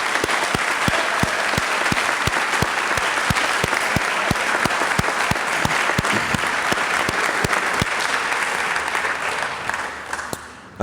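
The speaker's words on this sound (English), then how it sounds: "if you could join me in a round of applause for both of those groups" A summer program awards audience gives a steady round of applause, with dense clapping and a few sharper claps standing out, fading slightly at the end.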